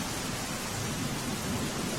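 Heavy monsoon rain in Valsad district, Gujarat, pours steadily in a dense, unbroken roar, close and loud throughout with no voices.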